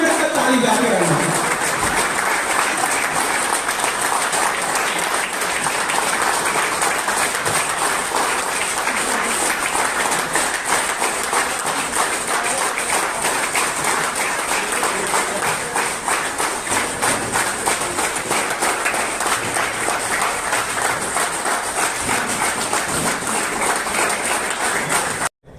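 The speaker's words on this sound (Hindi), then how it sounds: "आपको लगातार 30 मिनट तक ताली बजाना है" A seminar audience claps continuously in a loud, dense, unbroken wall of applause that holds steady for nearly the whole stretch before cutting off abruptly at the end.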